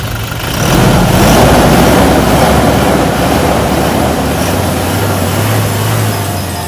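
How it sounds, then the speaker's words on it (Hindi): A 2019 Toyota Innova Crysta ZX engine turns over and settles into a steady, loud idle, running continuously with a low rumble and no talk. "अब मैं आपको इसके इंजन की साउंड सुनाता हूँ सर।"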